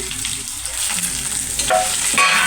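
Steady crackling sizzle of dried red chillies frying in hot oil, close and continuous, with occasional brief stirring or scraping noises.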